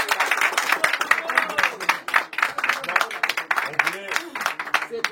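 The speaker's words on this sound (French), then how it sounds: "On applaudit." Guests at a customary wedding clap together in a lively, uneven round of close applause, with voices chattering throughout.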